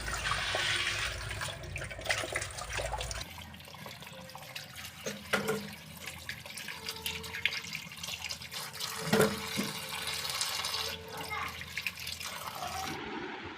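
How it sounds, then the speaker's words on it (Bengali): Fruit being washed under a running tap, a continuous rush of water splashing into a sink, louder at first then softer with scattered clatters and handling noises, with faint voices in the background. "এখন হচ্ছে আমি ফলগুলো ধুয়ে নিচ্ছি"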